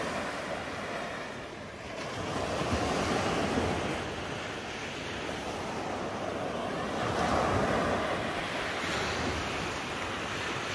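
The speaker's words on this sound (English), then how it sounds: "Just arrived at the beach." Continuous broad wash of sea waves breaking on a beach near Staithes on the Northumberland coast, surging louder at moments, with wind buffeting the microphone and no clear talking.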